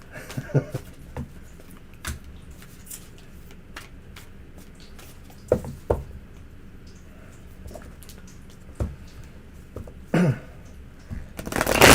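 Tarot cards are shuffled by hand, with soft intermittent riffles and flicks spread across the stretch, fairly close, and a louder rustle at the very end.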